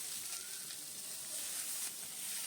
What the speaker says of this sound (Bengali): এবার ভালো করে কষিয়ে নিতে হবে মশলাটাকে